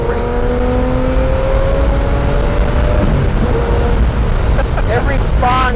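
A Lamborghini Murcielago's naturally aspirated engine drones steadily from inside the cabin, then climbs in pitch as the car downshifts and accelerates, with voices talking over it.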